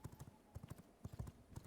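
Horse hooves clip-clop in quick rhythmic pairs as a rider travels on horseback in the video game V Rising, quiet, close and steady with no speech over them.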